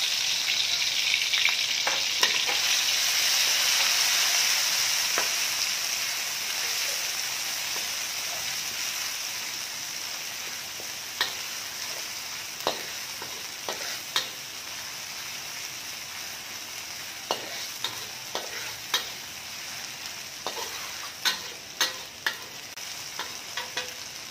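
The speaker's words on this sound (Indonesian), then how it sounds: "Sekarang kita tumis dulu untuk bumbunya." Galangal, lemongrass and spice paste sautéing in hot oil, a steady broad sizzle throughout with occasional sharp spatters and stirring scrapes, close and fairly loud.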